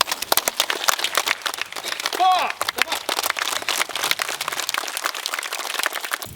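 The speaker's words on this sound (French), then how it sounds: "Je vous demande de l'applaudir." Clapping from an audience at a children's awards ceremony in Benin, dense and crowd-like, continuing steadily throughout at moderate loudness, with a brief whistle-like tone partway through.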